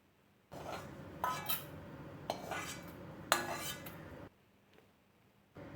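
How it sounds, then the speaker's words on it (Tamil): A metal spoon scrapes and clinks against a pan as moong dal roasts in ghee, several short bursts of stirring separated by brief pauses, close and fairly quiet with no talking. "இந்த பாசி பருப்பை நல்லா வறுத்து எடுத்துக்குவோம்."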